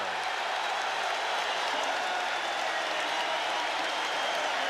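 Arena crowd at a 1987 NBA Finals basketball game between the Lakers and Celtics, a dense, continuous roar of cheering and applause filling the whole stretch with no break.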